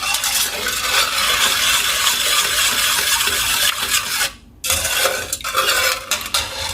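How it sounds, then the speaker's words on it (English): Sugar is stirred into a vanilla liquid mixture in a bowl for a Jamaican sweet potato pudding, making a steady, loud scraping and clinking of the utensil against the bowl with a brief pause midway. No talking. "So I will mix this until it dissolves, the sugar dissolves."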